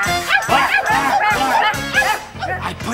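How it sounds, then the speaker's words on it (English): A dog gives a rapid series of about six sharp, loud barks in quick succession, close and clear, with a brief lighter yip at the end, heard in a quiet bedtime setting. "I heard my dog bark."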